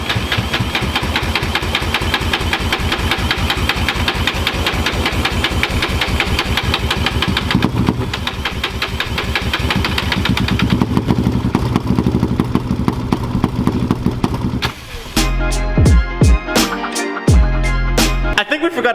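A Yamaha Raptor quad ATV engine runs loud and close with a rough, pulsing idle and rising revs, then stutters and cuts in and out near the end.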